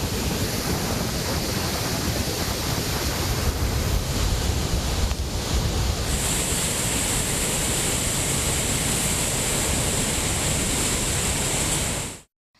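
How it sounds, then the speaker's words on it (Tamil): Courtallam waterfall in flood after heavy monsoon rain in the Western Ghats roars as a dense, continuous wall of rushing water, loud and steady, until it cuts off abruptly at the end. "இன்று காலை வெள்ளப்பெருக்கு சற்றே குறைந்த போதிலும் தண்ணீரின் சீற்றம் அதிகமாக காணப்படுகிறது."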